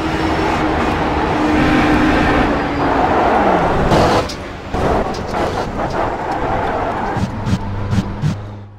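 Onboard crash of an HPD race car on lap one at Spa-Francorchamps in iRacing, with engine roar cut by a loud impact and crunching, then rattling debris and a lower, rougher engine hum.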